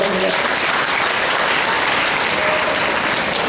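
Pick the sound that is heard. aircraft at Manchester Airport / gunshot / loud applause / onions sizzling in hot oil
loud applause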